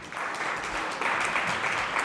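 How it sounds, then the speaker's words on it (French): Applause from a conference audience at a French event on public building renovation, a dense, steady burst of many hands clapping that swells slightly midway and holds at an even level. "Vous pouvez applaudir."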